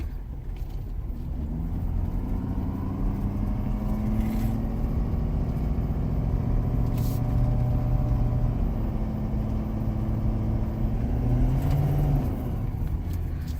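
A 2017 Ford F250 with a 6.7 engine and an S&B cold air intake rolls off slowly and accelerates, its deep steady drone rising gradually in pitch, heard from inside the cab without talk.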